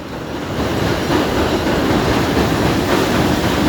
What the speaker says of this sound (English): Let these trains go by.